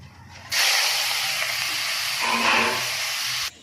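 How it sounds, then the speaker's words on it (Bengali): Prawns dropped into hot oil in a wok sizzle with a sudden loud, sustained hissing spray that holds steady for about three seconds before cutting off. "এবার আমি চিংড়ি মাছগুলো ভেজে নেব।"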